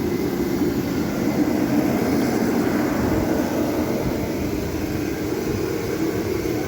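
A Built Hard forced-air propane heater runs on its highest setting, giving a loud, steady, jet-like roar of rushing air and burner noise with no change throughout.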